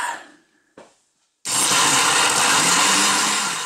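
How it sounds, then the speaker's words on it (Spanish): A blender roars loudly and steadily while blending frozen mango margarita mix into an icy slush, starting abruptly after a moment of quiet and a brief clunk. "Vamos a hacer un licuado, hasta obtener una mezcla frozen, que sea tipo hielo"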